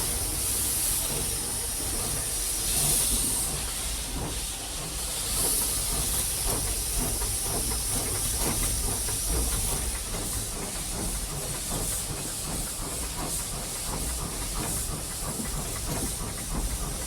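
A steam locomotive on a UK heritage line vents steam in a loud, continuous, close hiss, with faint rhythmic mechanical clatter running underneath.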